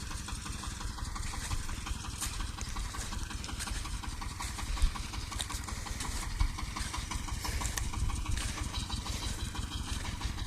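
A Shifeng 240 tractor drives across a field working soil rows, its steady engine chugging loud and close with a dense rhythmic knock and rattling throughout, no talk.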